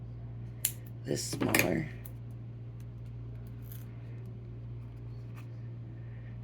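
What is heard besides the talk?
cutting card for a craft kit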